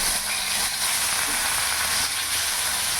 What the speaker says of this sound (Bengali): মাছগুলো একটু ভাজা হয়ে গেছে,